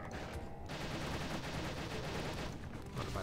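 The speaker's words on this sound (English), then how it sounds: "I still love that machine gun move." A quiet, continuous rattle of rapid-fire shots from a machine gun attack in the game Kameo: Elements of Power, a dense, unbroken stream of bursts with brief gaps.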